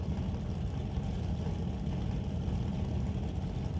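Drag racing cars, a Malibu Wagon and a Dodge Dart, idle at a Race of Champions event, producing a steady, loud, low engine rumble that continues without a break.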